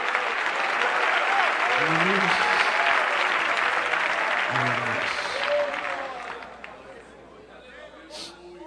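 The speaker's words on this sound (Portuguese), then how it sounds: "aplauda ao Senhor" A church congregation applauds in a loud sustained burst with voices calling out amid the clapping, then it thins and fades while murmured talk lingers.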